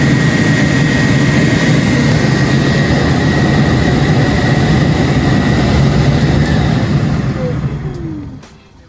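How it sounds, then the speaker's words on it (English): Vintage Air A/C conversion kit fan running steadily at loud, close range while its controls calibrate, a broad whooshing roar with a faint tone that shifts near the end before the fan winds down and fades. "Once that's plugged in, you can hear the fan, it changes speed."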